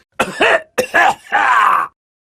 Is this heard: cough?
yes